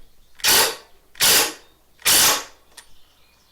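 Three sharp, evenly spaced ratcheting bursts from a screwdriver tightening screws on a DT400C motorcycle, close and loud, followed by a faint small click with no talking.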